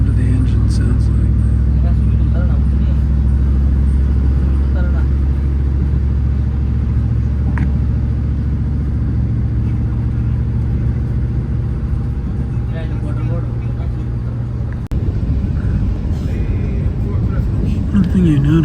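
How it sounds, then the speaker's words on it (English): A Sicilian train engine pulls out of Trapani with a loud, steady low rumble and drone that holds throughout, with a brief knock near the end. "just so you can hear what the sound of the engine sounds like."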